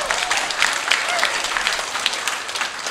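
Steady applause from a church congregation at an Easter celebration for a Toraja Catholic community, dense continuous clapping filling the whole moment at moderate loudness with no talk over it.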